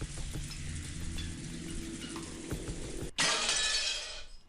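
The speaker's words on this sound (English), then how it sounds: "Nope, the shatter again." A glass-shattering sound effect from the Umineko visual novel game crashes in suddenly after a low rumbling game background, a bright burst of breaking glass that rings briefly and then tapers off.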